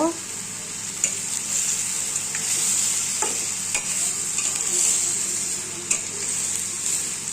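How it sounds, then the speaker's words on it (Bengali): Dried fish (shutki) stirred in a pan with fried ginger and garlic, under a steady bright sizzle, with occasional soft knocks of the spoon, close and continuous. "শুটকি দিয়ে এই নাড়াচাড়া দিব"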